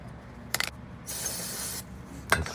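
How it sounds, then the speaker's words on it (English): Aerosol brake cleaner sprayed onto the front side of a brake rotor on a 2018 Hyundai Santa Fe, a steady close hiss lasting under a second, framed by brief clunks of handling before and after. "And spray the front side off now"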